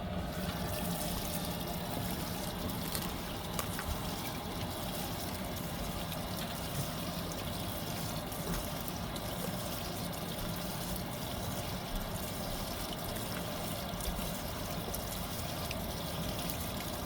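Water trickles and pours steadily through a Fisher and Paykel MW059 washing machine during its final rinse, a faint, continuous wash of sound with no pauses or voices.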